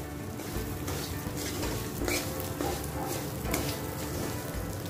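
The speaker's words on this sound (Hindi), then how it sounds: "अच्छा मिक्स करने के बाद इसको चलाते हुए 4-5 मिनट भूनना है मीडियम गैस पर" Semolina stirred and roasted in desi ghee over a medium gas flame for lapsi, a steady close sizzle with soft scraping from the spoon.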